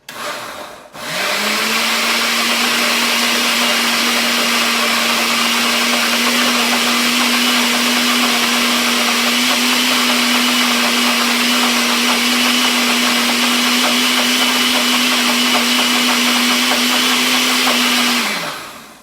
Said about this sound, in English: Now we will give it another spin and see if it is as smooth as we want it.